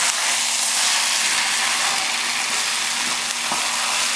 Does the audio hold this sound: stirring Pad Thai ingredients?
yes